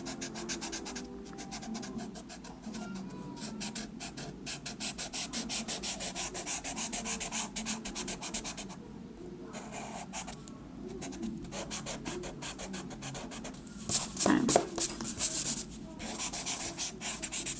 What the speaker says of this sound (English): We have the construction lines erased.